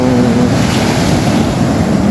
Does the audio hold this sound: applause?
no